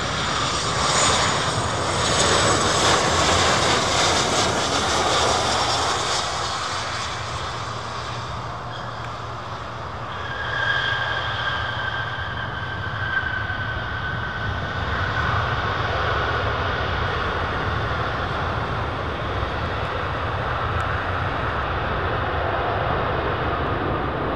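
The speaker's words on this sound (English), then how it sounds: "how good is the engine sounds?" Jet engines of 747 freighters at Miami airport roar loudly and continuously, with a whining tone that swells and shifts midway as the aircraft moves, heard alone without voices.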